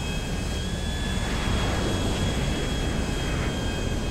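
A dense, steady roar of an airplane engine inside the video game GTA 5, loud and constant throughout with a faint whine above the rumble.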